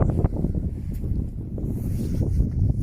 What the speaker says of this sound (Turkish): Evet rüzgar da çoğaldı.